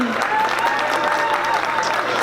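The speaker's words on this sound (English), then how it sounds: "Let's give one more round of applause for Deputy Consul General of Japan, Honorable Junichi Sumi." An audience applauds steadily at an opening ceremony for the 26th annual New Year celebration, a dense, even wash of clapping that fills the whole moment without a break.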